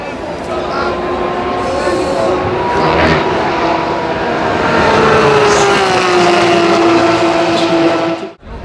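A GT3 race car at full throttle through Raidillon at Spa-Francorchamps during Spa 24 Hours Superpole qualifying, its engine a loud, sustained roar with rising and falling tones for several seconds before it cuts off abruptly.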